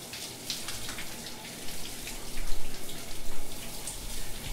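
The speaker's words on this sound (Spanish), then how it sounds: "Sin embargo, oyes que una de las duchas está encendida." Steady hiss of a running shower in a zombie visual novel game, a continuous wash of spraying water at moderate level that swells slightly toward the end, with no voices.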